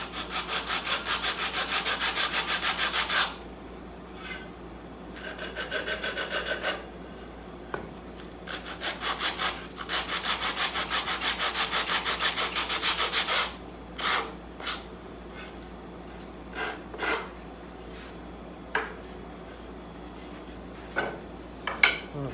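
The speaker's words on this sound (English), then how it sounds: "So I got a little piece of paper put in a block, and it's not going to take much to get rid of this." Sandpaper wrapped on a block rubbed over a wooden tenon, giving long rasping back-and-forth strokes in several bursts, then a run of short, quieter scrubs, close and with no talking.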